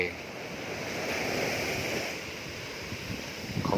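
Surf rolls steadily onto Kae Kae beach, Pattani, along the Gulf of Thailand, a sustained rushing wash that swells and eases, with wind noise and a brief sound near the end.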